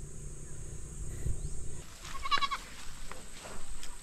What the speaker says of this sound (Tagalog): Kaya yung mga kambing lumalapit na dito, kaso nakasara.